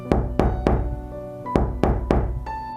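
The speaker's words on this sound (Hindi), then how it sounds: "इस बार उसके रूम के दरवाजे पर वही नॉक नॉक की आवाज सुनाई दी" Someone knocks sharply on a room door in two bursts of three raps, loud and close, with a short pause between the groups, in a horror story setting.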